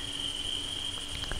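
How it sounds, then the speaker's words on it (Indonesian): Crickets chirp steadily in the Granny horror game, a continuous high-pitched trill that holds evenly throughout, with a few faint taps near the end and no talk. "Di sini tuh banyak banget suara jangkrik seperti kalian dengar ya"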